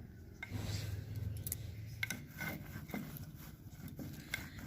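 Flour dough being kneaded by hand for puli pitha, with soft, close rubbing and squishing pressed out in irregular strokes and a few light taps against the surface.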